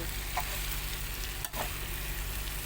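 Sliced pork belly stir-fried with salt in a pan for Thai-style braised pork, giving a steady close sizzle with a couple of brief stirring scrapes and no voices.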